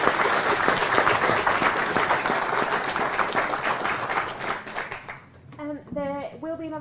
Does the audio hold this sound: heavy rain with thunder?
no